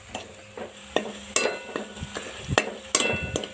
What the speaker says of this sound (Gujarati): તમે જોઈ શકો છો ડુંગળી કેટલી સરસ મજાની આપણી શેકાઈ રહી છે